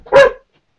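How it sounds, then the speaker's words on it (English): A single short, loud dog bark close by, clipped off abruptly and followed by silence. "dog is barking"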